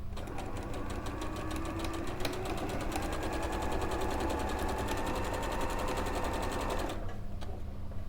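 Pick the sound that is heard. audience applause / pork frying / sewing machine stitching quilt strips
sewing machine stitching quilt strips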